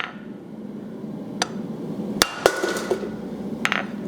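A blacksmith's hammer striking hot metal on an anvil, a handful of sharp, ringing blows spaced irregularly over a low background hum.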